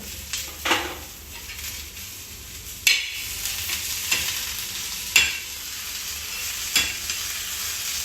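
Turi chole stir-fried in a hot pan after sambar masala goes in: a steady close sizzle with a few louder scraping stirs of a spoon against the pan every couple of seconds.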